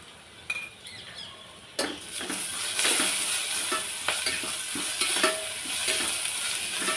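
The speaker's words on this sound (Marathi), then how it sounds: "गॅसची फ्लेम आता मी पूर्ण मीडियममध्ये करून ठेवलेली आहे जेणेकरून व्यवस्थित कांदा आपला पूर्ण लालसर होऊन द्यायचा आहे" Onions frying in a pan over a medium gas flame for chole pulao, a steady close sizzle with occasional stirring scrapes and clinks of a utensil against the pan.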